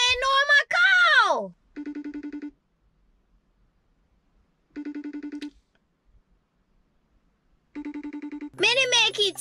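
A telephone ringtone repeats three times with regular pauses on a call that goes unanswered, each ring a short buzzy burst, while someone talks before and after the rings.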